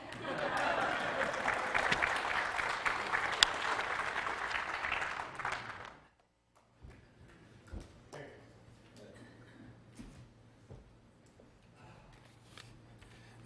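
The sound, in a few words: congregation applause after sermon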